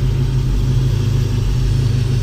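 A 1970 Ford Torino GT with a 351 Cleveland two-barrel V8 idles with a deep, steady, lumpy burble, loud and close, with no voices over it.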